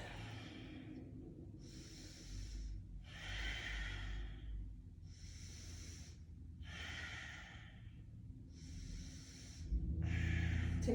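Slow, deep breaths during a yoga session, with clear inhales and exhales alternating in a steady rhythm roughly every second or two, close and fairly soft, ending in a louder rustle.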